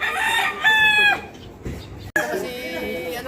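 Chickens and a rooster in a yard, with a loud nearby crow drawn out in a clear rising and held call, followed by scattered clucking and ambient noise.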